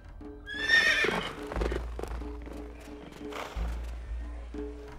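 Horses in a cartoon whinny loudly near the start, then hooves clip-clop in an uneven rhythm with a few more neighs over background music, all fairly close.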